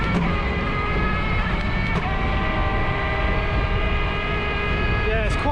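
Vapour e-bike accelerating at full speed while pedaling through the gears: a continuous loud whirring hum with rising whine tones and rushing wind noise, close and sustained throughout.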